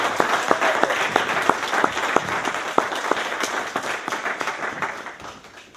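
A church congregation claps in praise of God at a conference in Hamburg, a full room of dense applause with sharp individual claps standing out, gradually fading toward the end.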